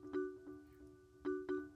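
Church bell sample with a marimba-like tone, a few soft struck notes ringing in a sparse uneven pattern, quiet and clean with no voices.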